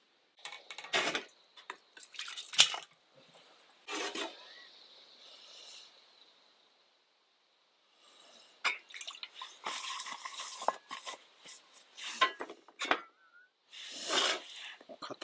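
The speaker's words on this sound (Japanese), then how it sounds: "こうやってお湯をかけて、なるべく油分はこうやって拭き取っていって" Hot water poured over oily camp cookware at a winter campsite, then wiped down, with splashing pours, dribbles and rubbing scrapes in bursts, a quiet pause in the middle.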